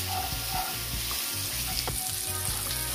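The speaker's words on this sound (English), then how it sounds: "I'm just going to allow this to, saute for about 2 minutes before adding my chickpeas" A close, loud, continuous sizzle comes from a pan where aromatics sauté with Scotch bonnet pepper before chickpeas go in, with a few soft stirring knocks.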